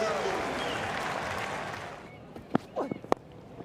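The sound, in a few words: cricket crowd applause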